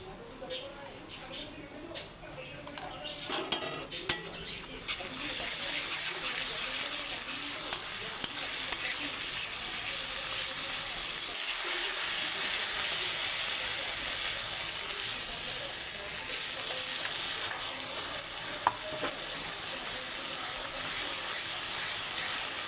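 Ginger, garlic, green chilli and onion paste frying in hot oil, a continuous close hiss of sizzling with occasional stirring knocks, steady for the length of the sound.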